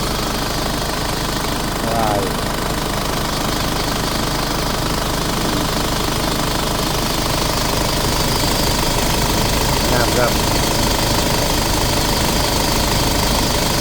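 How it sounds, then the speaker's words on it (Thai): Isuzu D-Max pickup engine running with its exhaust fitted with a muffler, a loud steady diesel rumble and knock throughout, with brief voices talking over it. "เสียงท่อเพิ่นพอมีท่อพักครับนี่"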